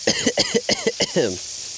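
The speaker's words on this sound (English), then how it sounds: "If you're coughing, you know you're doing it right." A quick burst of about five harsh coughs in a row, close and fairly loud, ending in a short voiced rasp.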